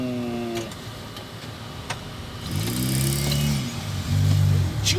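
A 1970s Dodge car backs up slowly, its engine note rising and shifting with a clicking tick early on, close and moderately loud, with no talk over it.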